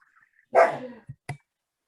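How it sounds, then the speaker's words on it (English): A dog lets out one sharp bark, followed by a couple of soft short knocks in otherwise quiet surroundings. "And a dog is barking."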